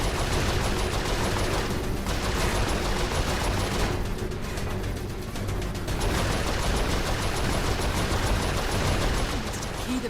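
Continuous dense gunfire in Saints Row IV, a sustained barrage of rapid automatic shots that barely lets up for ten seconds, briefly thinning in the middle before resuming at full intensity.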